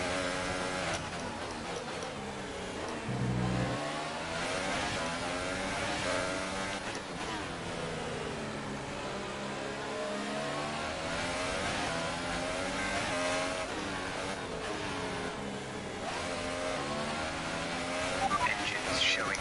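Formula 1 car engine in F1 2018 with slight engine wear, droning steadily and loudly with rising and falling pitch sweeps as the car accelerates and shifts through a lap.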